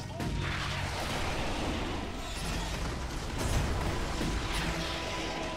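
Rockets fire in a battle in the video game Starship Troopers: Terran Command. A dense, continuous roar of blasts and gunfire rumbles loudly throughout with no break.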